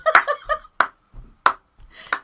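A few sharp hand claps, close and loud, mixed with brief bursts of speech and a soft low thump, during a live street show by a family folk band.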